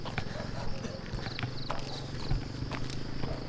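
Horse hooves clip-clopping at a walking pace, a steady uneven rhythm under people talking, with outdoor background noise throughout.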